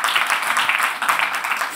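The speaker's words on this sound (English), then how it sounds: "I think a round of applause," Steady audience applause at a talk on city nutrition, a continuous dense wash of clapping at even loudness, with no voices over it.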